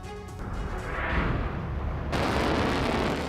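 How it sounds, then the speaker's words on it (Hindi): Rockets strike military bases in a nighttime attack, producing a deep, rumbling roar. The sound swells, then breaks into a harsher, louder blast midway, heard from a distance with no voices. "ईरान ने इजरायली सैन्य ठिकानों पर रॉकेट हमला किया।"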